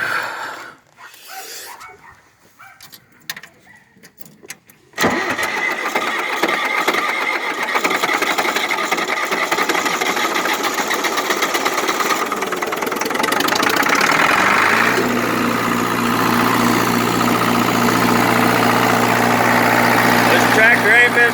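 A Ford New Holland 5030 tractor engine cranking and catching, then settling into a steady, loud idle that runs on continuously; a quiet, uneven stretch comes before the start.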